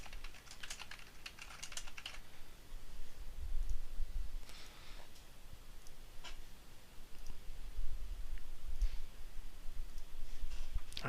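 A computer mouse and keyboard in use while an app is built in the Podio web tool: steady runs of quick, close clicks and taps, in bursts with short pauses between them, and no talking.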